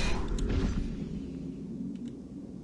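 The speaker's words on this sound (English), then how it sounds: "there's a sound of wind outside, which makes the place feel kind of lonely" Steady, soft ambient wind sound effect in an Unreal Development Kit game level, a low continuous rushing hum with a faint whoosh near the start and no talking.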